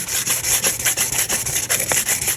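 Sandpaper is rubbed back and forth over a thin epoxy coat on a tumbler, a close, steady rasping scrub with a quick repeating rhythm and no voices.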